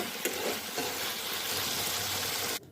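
A vegetable curry sizzles steadily in a pan while being stirred after cumin powder is added. A soft scraping runs under the frying hiss until the sound cuts off abruptly near the end.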